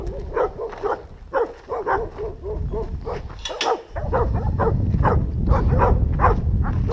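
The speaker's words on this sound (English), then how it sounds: "Katie, the one that's barking at you now" A dog kept as a guard dog barks repeatedly in a quick rhythm, close and loud, with a creaking mechanical noise and a rumbling background joining partway through.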